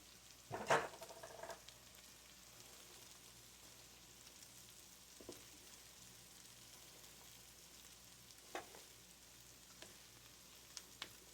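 Thinly sliced red cabbage cooks in a pan for traditional German Rotkohl, giving a faint, steady low sizzle with a sharp clatter near the start and a few soft ticks and pops later, quiet overall with no talking.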